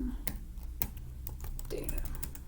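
Computer keyboard being typed on at close range, a quick irregular run of sharp clicks and key taps with a faint voice underneath.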